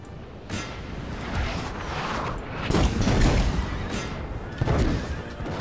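Loud, chaotic battle din from a Napoleonic-era strategy video game, with repeated booming cannon blasts and crashing impacts, several heavy shots overlapping in a dense, continuous rumble.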